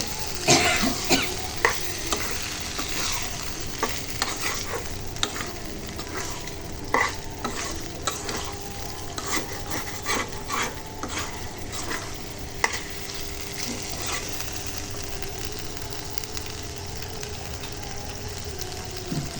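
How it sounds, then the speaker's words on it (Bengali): Potatoes and beef tripe stirred in a sizzling pan, with repeated close scraping and clattering strokes over a constant frying hiss and a brief cough. "আমি মিক্স করে নিচ্ছি, ভালোভাবে নাড়াচাড়া করে মিক্স করে নিচ্ছি"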